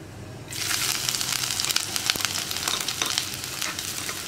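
Chopped ginger and garlic dropped into hot oil with fenugreek, bursting into a loud, steady sizzle right after a quiet start, close and continuous with a few sharp crackles.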